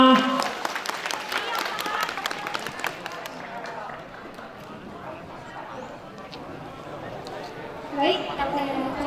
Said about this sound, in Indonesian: Yang lain boleh tepuk tangan semuanya.